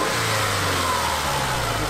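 A cheap used Subaru Legacy's engine running loud and close, with a steady mid-pitched drone that lifts into a rev, continuous and unbroken with no voices over it.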